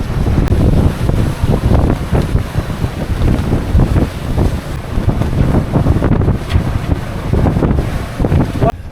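Strong wind roars over a sailing yacht under way in apparent wind of about 22 knots, heavy microphone buffeting mixed with waves and rushing water, loud and continuous.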